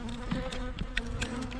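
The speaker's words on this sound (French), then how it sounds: "il y a une abeille solitaire qui est venue s'y mettre" A solitary bee buzzes close by near a trap hive, a continuous droning hum that wavers slightly in pitch and loudness as it moves about, with no talking over it.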